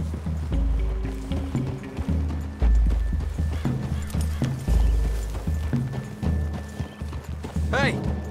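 Horses clip-clopping at a trot in the game Red Dead Redemption 2, a steady near rhythm of hooves with a whinny near the end, over a low musical score and brief voices.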